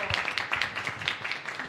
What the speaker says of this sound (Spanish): Pues un aplauso para nuestra invitada el día de hoy